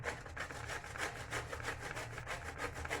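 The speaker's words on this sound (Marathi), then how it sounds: "मध्यम भागाने आपण हा भोपळा असा छान असा किसून घेऊया" A bottle gourd is rubbed steadily across the medium side of a hand grater, giving a soft, even rasping in repeated strokes, faint and close, with no talking.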